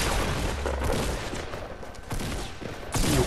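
Gunfire hits a built structure in the Fortnite video game, a dense rattle of rapid shots and impacts that swells again at the end.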